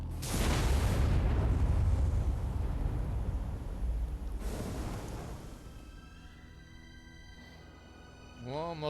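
A loud explosion of plastic explosives and gas in the video game Beyond a Steel Sky, a heavy booming blast with a long rumbling roar that slowly decays, then a second burst and a fading tail.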